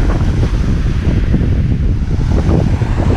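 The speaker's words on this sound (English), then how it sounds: "The public beach at Rondeau. Nice beach." Waves roll onto the public beach at Rondeau, a loud, continuous surf roar heavily mixed with wind buffeting the microphone, with no voices.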